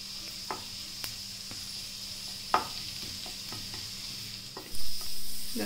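Garlic frying in a little oil in a pan, a steady soft sizzle broken by a few sharp utensil taps and stirs, with a louder burst of frying near the end.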